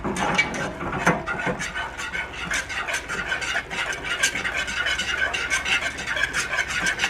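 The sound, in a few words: whisking flour into a thickening sauce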